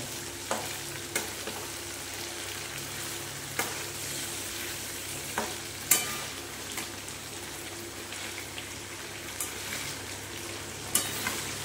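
Marinated chicken sizzles steadily in hot oil where spices have already cooked down, with a dense close hiss and scattered clicks and scrapes from stirring throughout.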